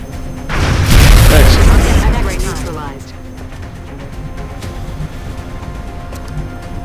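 A weapon's double shot fires in XCOM Enemy Within during a battleship encounter, one heavy booming blast that rolls and decays over a couple of seconds and then fades into quieter game ambience.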